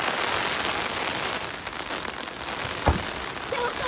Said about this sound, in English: right now we're in the rain.